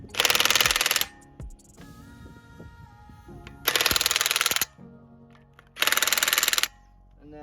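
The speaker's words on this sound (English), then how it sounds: "I'm gonna tighten the wheels up in a star pattern every other" Impact wrench tightening car wheel lug nuts in a star pattern while fitting new brake rotors, three loud rattling bursts of about a second each separated by quieter pauses with faint clanks, close by.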